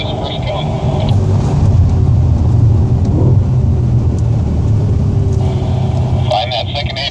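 Audi S5 at full throttle on the Sonoma race track, engine roaring steadily and loudly throughout with a continuous rumble, while an instructor talks over it.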